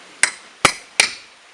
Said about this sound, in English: I'm using my pry bar and hammer to chisel in so I can get access to nails and pull them out